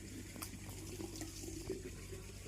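Tap water runs steadily into a basin while utensils are washed, a soft continuous splashing with faint clinks, quiet and close.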